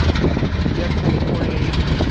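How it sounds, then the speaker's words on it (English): A steady, dense diesel locomotive engine rumble idles continuously, loud and close, with a low throbbing drone and no clear voices, at a rail line in Dorval, Montreal. "I love this sound of those diesels."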